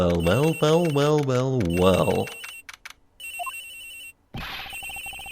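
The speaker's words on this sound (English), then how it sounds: "It sounds like the phone is up in the flight attendant's room." A person speaks for a couple of seconds over a steady electronic hum in Ace Attorney Investigations, then an electronic telephone ring sounds briefly from an airplane's flight attendant room, followed by a brighter burst of ringing.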